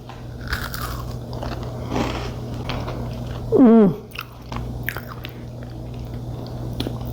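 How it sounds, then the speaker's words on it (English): Crisp, buttery thin chocolate chip cookies bitten and chewed up close: a few scattered crunches and soft chewing sounds, with a short vocal hum midway. "The cookies came out of the oven thin, crisp, buttery, a little chewy on the inside. Let's have a taste."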